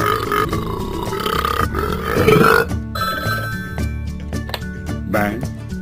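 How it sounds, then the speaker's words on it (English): A long, loud cartoon burp from Ben the dog in Talking Friends rumbles out amid bright ringing and clinking sounds, with a voice-like grunt in the mix. "That was the best burp I ever heard."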